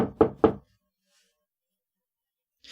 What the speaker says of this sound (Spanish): He aquí, dice Jesucristo, yo estoy a la puerta y llamo.